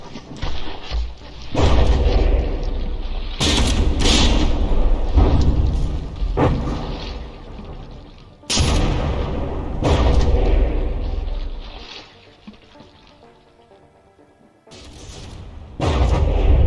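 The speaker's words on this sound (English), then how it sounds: "Whereas the Stein's return fire puts on some serious hurt." Heavy naval gunfire between battleships in the video game From the Depths, a series of deep booming blasts and crashing impacts with rumbling decay, loud and close, separated by brief lulls.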